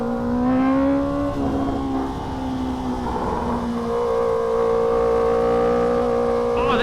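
Honda CBR650R motorcycle engine while riding, a steady droning whine that rises and settles with throttle, recorded close with wind noise throughout.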